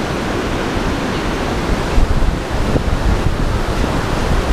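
A river rushes beneath a suspension bridge on the Everest base camp trek, a loud, steady broadband roar of flowing water with some wind noise against the microphone.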